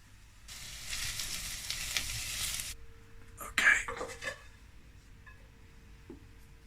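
Stinging nettles, plantain leaves and other wild greens sizzle in a pan, a close crackling hiss lasting a couple of seconds, followed by quieter clatter of utensils and brief stirring sounds.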